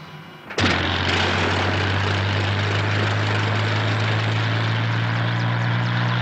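A helicopter's engine and rotor roar in steadily and stay loud and constant, with a strong low hum and no voices.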